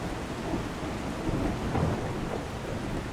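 Dense, steady rain pours down during a thunderstorm in the video game The Last Caretaker, with a low continuous rumble beneath and no talking.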